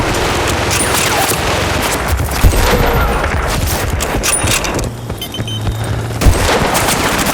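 Heavy battlefield gunfire in the shooter Bad Company 2, loud overlapping bursts of automatic fire and single shots with occasional deeper booms, sustained throughout the skirmish.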